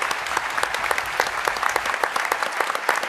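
Audience applause at an event honoring entrepreneurship mentors, a fairly distant, even mass of individual claps sustained throughout with no talking.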